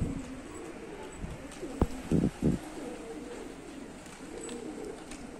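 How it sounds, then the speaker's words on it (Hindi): Pigeons coo softly outdoors in cold weather after rain, with a few sharp bursts of wing flapping clustered mid-way over a steady background hum. "कबूतर सारे उड़ गए"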